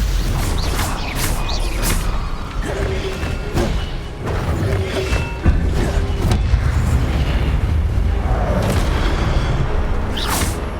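Spell combat in the Hogwarts Legacy video game: repeated booming impacts, whooshes and crashing effects in a loud, continuous battle mix with a few brief taps and creaks.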